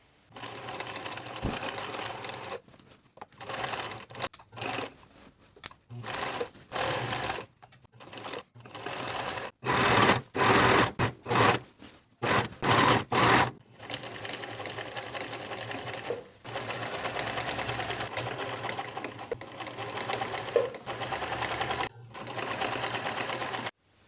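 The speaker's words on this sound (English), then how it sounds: "Sew the crotch curve with a 1/2 inch seam allowance and finish the raw edges together" A home sewing machine stitches the crotch curve of a pair of jeans with a half-inch seam, running in repeated bursts with short pauses, close and steady without any talk.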